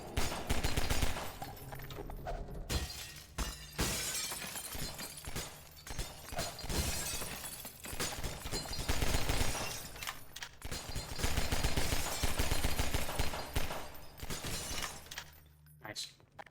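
Gunfire shattering shootable glass in Half-Life 2 comes in loud bursts of shots and breaking panes, separated by brief lulls, while a person talks over the din.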